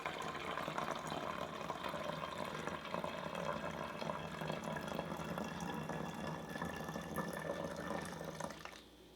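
Cold tap water runs steadily into a container of vinegar for a homemade air freshener, a continuous close pouring and splashing that lasts several seconds before cutting off near the end.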